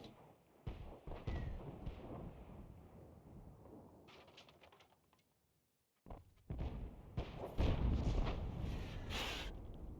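A shell strikes a Bishop self-propelled gun in War Thunder, arriving as a sudden loud blast after a near-silent gap, followed by rumbling crashes and booms over ongoing tank battle noise.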